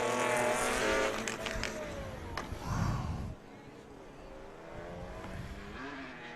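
Drift cars on a race track at PBIR, with a BMW E36 spinning: loud engine roar and tire noise sweep past, then fade into a lower, distant motor drone.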